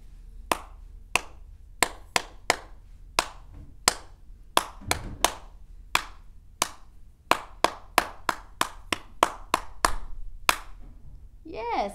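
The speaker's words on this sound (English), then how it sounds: "We're going to clap our hands to the tune of Bingo." Hands clap in a steady rhythm to the tune of the children's song Bingo at a sing-along, sharp claps spaced roughly every half second with brief pauses between phrases, close and clear, with faint voices underneath.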